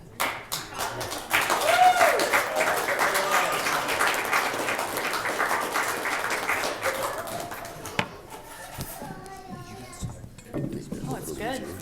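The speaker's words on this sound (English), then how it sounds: "I want you to give another round of applause to Alva and Char." Wedding guests at a golf and country club reception applaud, a broad wash of clapping that swells early and slowly thins out, with cheers and chatter mixed in and voices continuing as it fades.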